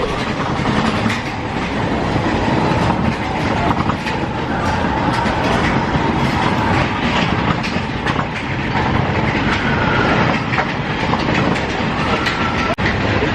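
Space Mountain, the indoor roller coaster at Disney, rumbles loudly and steadily throughout, with a continuous clattering track roar and occasional sharp clicks, and nobody speaking.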